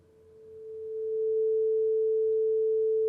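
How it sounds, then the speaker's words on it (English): A pure 440 Hz sine tone from a synthesizer oscillator sounds as a single steady pitch, fading in over the first second and then holding at constant loudness, alone. "now play a sine wave at 440 hertz"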